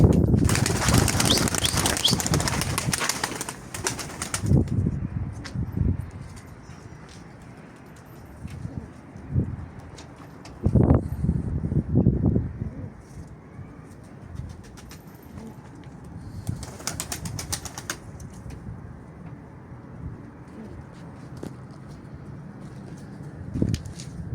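Pigeons coo and flap in a daytime flight session, with bursts of wing clatter near the start and around the middle over a steady background of soft cooing and ambient noise.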